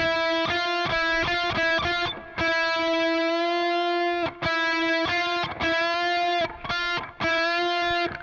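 A guitar plays a sustained, bright note whose pitch bends upward, then repeats in a run of picked and bent notes with brief gaps between them.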